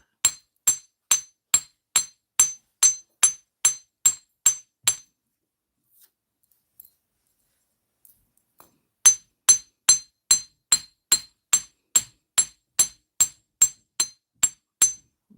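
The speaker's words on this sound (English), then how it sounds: "we're going to get our chasing hammer" A chasing hammer strikes metal earrings on a steel block in two runs of sharp, evenly spaced metallic taps, about a dozen each, separated by a quiet pause, close up.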